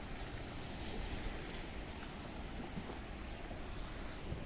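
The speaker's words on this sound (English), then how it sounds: "Straight out into the blue Mediterranean Sea." Mediterranean Sea waves wash against the Kato Paphos promenade in Cyprus as a faint, continuous surf rush mixed with wind noise, with no voices.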